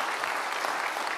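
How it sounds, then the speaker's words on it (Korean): A church congregation at a Friday evening worship service breaks into steady, dense applause, loud and continuous from start to finish. "이 친구에게 다시 한번 박수 주시죠"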